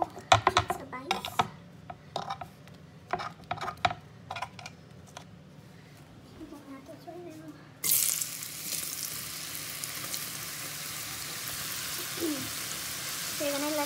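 Tortilla pieces frying in hot oil for green chilaquiles, starting with light clinks and stirring sounds before a steady, loud sizzle takes over and continues evenly to the end.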